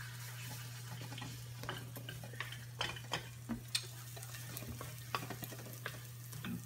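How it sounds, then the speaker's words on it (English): Eggs frying sunny-side-up in a pan give a soft, steady sizzle, with occasional light clicks and scrapes of a utensil against it over a constant low hum, and no voices. "And there's the sunny-side-up."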